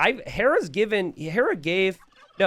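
Turkeys gobble in a video game during a tournament match, several warbling, pitch-swooping calls in quick succession, loud and close, with a short pause before a last burst.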